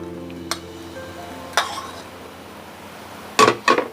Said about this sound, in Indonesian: Saya aduk rata ya, semua bahan yang baru dimasukkan.